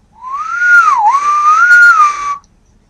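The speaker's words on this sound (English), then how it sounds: "So if I whistle" A person whistles one clear, sustained tune that glides up, dips, and rises again for about two seconds, loud and alone.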